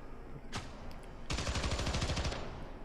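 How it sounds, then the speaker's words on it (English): Automatic machine gun fire in the action video game Syndicate: a single sharp shot, then a rapid burst of about a second of evenly spaced rounds, loud and close against a low game background with no talk. "I actually like that machine gun quite a bit for the early part of the game"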